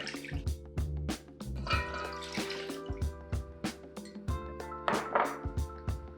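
Water pours from a container into a pot of chicken broth, gurgling in rapid, irregular glugs with a few drippy splashes, near and fairly soft, continuing steadily without talk.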